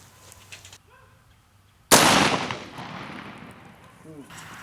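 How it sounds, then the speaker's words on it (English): A single loud rifle shot from a Century Arms C39 V2 in 7.62x39 firing Tula 124 grain full metal jacket ammunition, a sharp crack with a long decaying echo, preceded by faint background noise. "We got some Tula ammo, 124 grain full metal jackets, and we're going to be using our Century Arms C39 V2"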